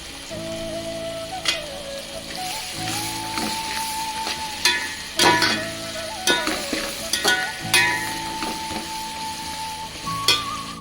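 A handful of cashews fries in hot oil with whole spices in a pan, a close crackling sizzle broken by repeated sharp scrapes and clinks of a spoon stirring, over a steady tonal hum in the background.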